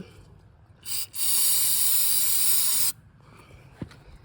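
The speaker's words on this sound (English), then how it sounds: "Spray a tad more in there just cuz" An aerosol can sprays in a short burst while fixing a John Deere 210 tractor, then a long steady hiss lasting about two seconds, close and loud, followed by quiet.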